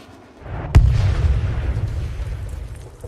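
A HIMARS rocket strike hits a Russian system positioned in a tree line: one sharp, heavy blast lands suddenly and is followed by a long, low rumble that rolls on and slowly fades.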